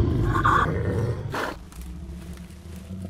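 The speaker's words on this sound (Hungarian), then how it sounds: "mit keres amottan az a szörnyű oroszlán?" A lion gives one loud, broad roar near the start of a scene in an animated short film, then fades into a lower rumbling tail under a light background of music.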